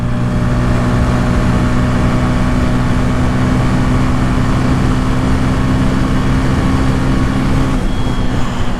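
A 2025 Bajaj Pulsar N160 motorcycle engine runs on the road as a loud, steady, low droning hum blended with rushing wind noise, continuous throughout with little change in pitch.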